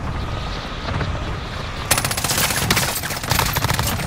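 Rapid automatic gunfire from the game Call of Duty Modern Warfare, a dense burst of machine-gun shots that starts abruptly partway through and rattles on loudly to the end over steady game background noise.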